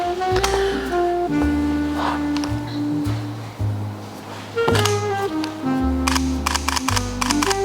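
Sony A7 II camera being tested after a shutter replacement repair, with its electronic shutter enabled; several distinct clicks ring out close by over a busy background of music-like tones, with no talking.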